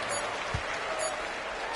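Arena crowd cheering at a basketball game in NBA 2K26, a dense continuous roar that stays level throughout, with faint commentary mixed in.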